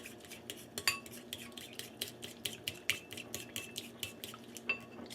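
A utensil stirs Creole seasoning in a bowl, tapping and scraping the sides in a quick, rhythmic series of close clinks at a moderate level, with no voices.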